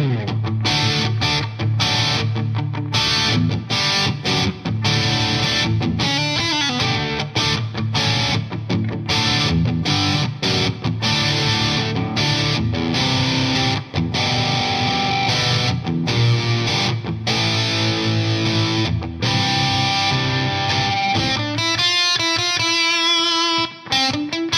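Distorted electric guitar plays through the lead channel of a PRS MT 15 amp, with dense, driven riffing and choppy palm-muted rhythm that continues steadily for the whole stretch, ending in a few ringing notes.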